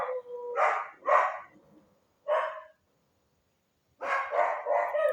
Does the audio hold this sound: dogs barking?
yes